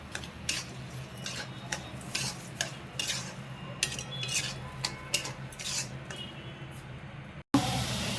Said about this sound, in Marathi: साखर चांगलं असं मिक्स करून घेते